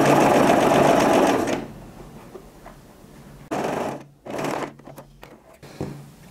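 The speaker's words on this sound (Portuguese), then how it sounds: "vou desvirar e passar uma costurinha de 1 centímetro, de pezinho de máquina" A sewing machine stitches a seam on a lycra bra in a loud burst, then falls quiet, then runs in two shorter close bursts with brief pauses between.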